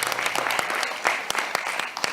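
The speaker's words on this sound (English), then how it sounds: "another round of applause for Nikita and Nicole" Close, lively audience applause at a creative industries networking social, dense overlapping claps with a few sharper hand strikes standing out, lasting about two seconds.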